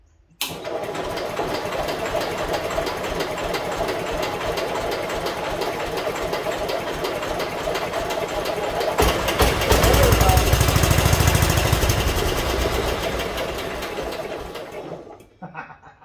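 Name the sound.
old engine with dirty carburetor starting and running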